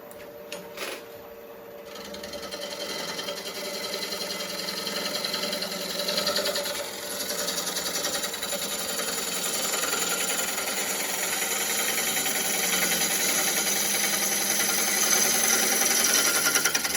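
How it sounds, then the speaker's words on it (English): A wood lathe spins while a gouge makes a pull cut, facing off the front of a wood piece for a hollow form vase, a steady, close, whirring cutting hiss that builds after a brief start and continues unbroken. "I'm going to start by facing off the front of this piece with a pull cut."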